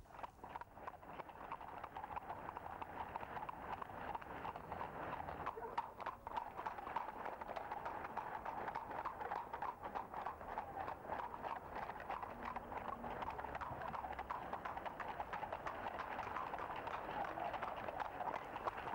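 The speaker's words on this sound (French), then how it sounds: "Sans atteindre au summum de la course hippique, le trot attelé par les rues de village" Horses trot in harness races through the stony streets of a Basque village, their hooves making a rapid, steady clip-clop at moderate distance against a faint background hum.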